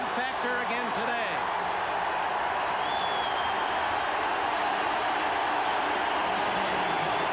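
Steady, loud stadium crowd roar at a 1990 Broncos vs Browns playoff football game, a continuous wash of noise with a brief swell near the start and a whistle-like tone midway.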